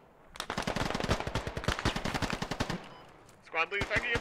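Rapid bursts of automatic gunfire crackle loud and close in a first-person shooter game, a long rattling volley followed by a short pause and another burst.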